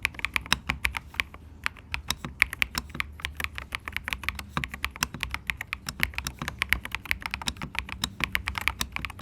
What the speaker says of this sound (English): Now let's do a sound test. I'm going to mic up the keyboard so you can get a good idea of how it sounds.